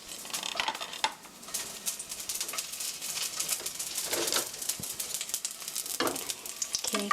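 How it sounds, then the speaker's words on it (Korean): Garlic sizzles in hot frying oil in a pan for pear fried rice, a steady crackling fry with brief scraping and utensil clinks throughout, fairly loud and close with no voices. "마늘을 먼저 넣어서 기름에 향을 내주세요"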